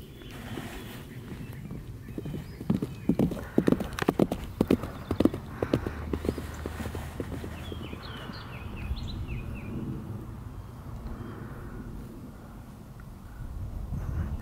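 A young horse's hooves clip-clop irregularly on hard ground close by, with faint birdsong and light outdoor background noise.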